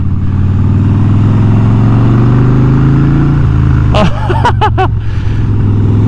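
Harley-Davidson cruiser motorcycle ridden by a first-time rider, its engine giving a loud, steady low rumble throughout, with brief sharp higher-pitched squeaks or clicks partway through riding over the continuous drone.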